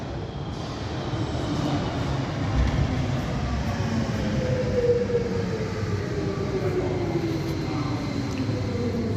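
A metro train in a video game runs past with a steady, loud rolling rumble and a slowly rising mechanical whine that stays continuous throughout.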